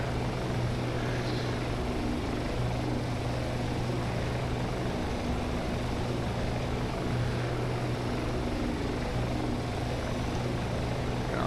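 A Shergood S64 helicopter taxis at high weight, its steady rotor and engine drone constant and fairly loud throughout, with no voices.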